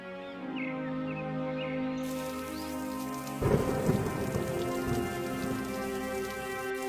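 Steady rain pours over a street corner, with a loud rumble of thunder rolling in midway and continuing under the downpour.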